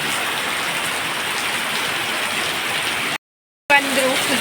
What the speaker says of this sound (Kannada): ಮಳೆ ನೋಡಿ ಹೇಗೆ ಬರ್ತು ಉಂಟು